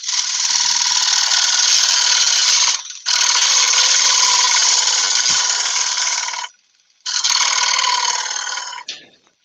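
Spindle gouge cutting wood on a lathe for an oyster bowl, a loud hissing, scraping whine in three long passes with short gaps between them, heard close with no talk.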